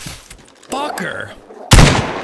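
Shotgun blasts in the DayZ video game: a sharp, loud broadband shot near the end, preceded by a smaller crack, with a voice heard in between.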